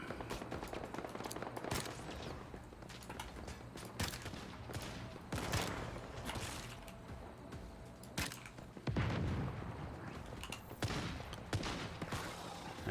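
Rapid gunfire in the video game Once Human, with repeated sharp shots and heavier booming bursts in irregular volleys over a constant loud background of combat noise.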